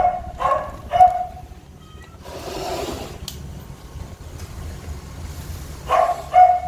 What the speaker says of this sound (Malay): Anjing buka pula.